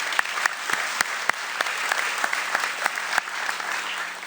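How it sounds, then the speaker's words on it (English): A small audience at a radio station event claps steadily with a few sharper individual claps standing out, moderately loud and continuous throughout. "Let's give Ben a round of applause."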